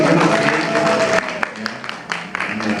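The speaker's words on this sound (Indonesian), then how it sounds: "Boleh kasih tepuk tangan lagi?" A church congregation applauding during a service, a dense burst of clapping that fades and trails off alongside a few voices.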